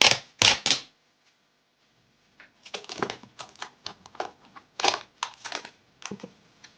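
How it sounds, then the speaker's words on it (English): Duct tape pulled and pressed onto a dollar-store cosplay armour belt: a few sharp ripping bursts up close, a pause, then a run of short crackly tearing and smoothing sounds with no talking. "So I'm gonna tape this into position."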